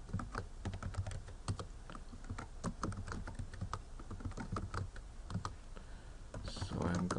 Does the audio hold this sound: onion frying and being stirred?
no